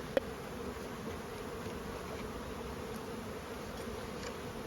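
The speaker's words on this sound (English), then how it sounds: "So we take our remaining bees." Honey bees buzzing steadily as they are transferred from a nucleus box into a full-sized hive, a continuous low drone of many insects at moderate distance, with a brief click near the start.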